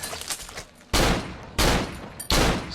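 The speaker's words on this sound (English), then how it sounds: "Stop shooting above its head and shoot its head instead." Loud, close gunfire from the horror video game Cry of Fear, with three heavy bursts of shots cutting in one after another over a softer ambient background.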